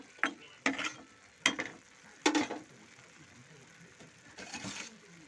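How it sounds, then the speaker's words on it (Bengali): A spoon stirs a pumpkin dish in a pan with a few separate scraping, clattering strokes, close and moderately loud, with quiet gaps between them. "একটু নাড়াচাড়া করে দেবো।"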